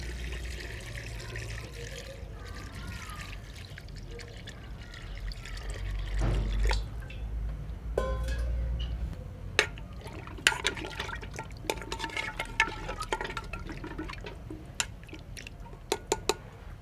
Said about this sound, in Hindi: पानी भी डालेंगे।